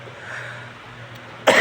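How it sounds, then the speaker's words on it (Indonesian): After a quiet stretch of faint room hum, one short, sharp cough bursts out close to the microphone right at the end. "batuk."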